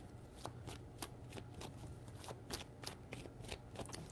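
Tarot cards being shuffled, a quick run of crisp riffling bursts at an even rhythm, close and fairly quiet with no talking.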